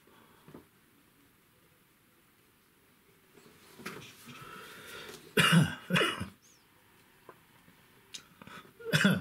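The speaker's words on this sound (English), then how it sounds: "Still coughing a lot." A person coughs several times, with a quiet start and then a cluster of loud, close, harsh bursts, followed by another cough at the end.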